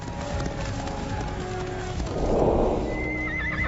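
Cavalry horses in an ancient battle scene, hooves clip-clopping in a steady rhythm with a whinny rising over a swelling rumble of a charge, loud and close throughout.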